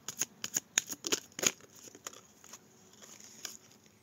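Tarot cards being shuffled and drawn, a quick run of crisp riffling flicks and snaps up close in the first second and a half, then softer scattered card slides and taps.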